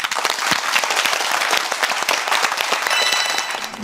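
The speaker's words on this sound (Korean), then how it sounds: "박수를 청해 보겠습니다" A television quiz show's studio audience claps, brisk, dense applause with crisp individual hand claps, steady and fairly close throughout.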